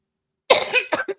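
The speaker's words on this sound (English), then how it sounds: "I've been coughing this whole time." A person coughs several times in quick succession, a loud harsh burst followed by two shorter coughs, close and alone with no talking.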